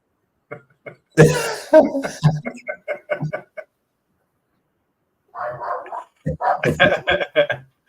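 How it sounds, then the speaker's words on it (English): A dog barks in quick repeated bursts, a volley early on and another after a pause, loud and fairly close, with a voice mixed in. "Is that your dog?"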